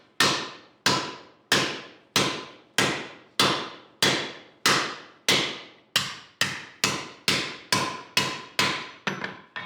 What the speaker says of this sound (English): I'm just feeling what the sheet metal is doing with the hammer